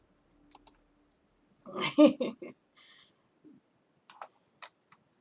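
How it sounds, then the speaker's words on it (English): Computer keyboard keys clack in a few quick clusters very close to the microphone, with one loud burst of typing followed by scattered single taps and quiet gaps. "your keyboard clacking suddenly scared me"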